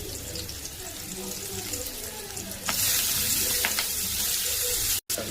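Prepared noodles go into a hot pan with onions, and a steady frying hiss swells into a louder, brighter sizzle partway through, with no talking.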